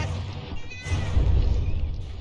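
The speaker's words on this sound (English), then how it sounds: "Cat!" A cat meows close by, a short harmonic cry rising over a steady background of battleship game sounds from a naval combat match.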